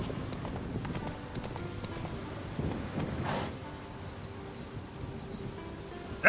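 Horse Roach galloping in The Witcher 3 video game, a steady rapid clip-clop of hooves under light rain, fairly soft and continuous with a brief swell midway.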